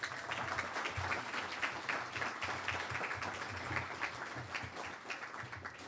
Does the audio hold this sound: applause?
yes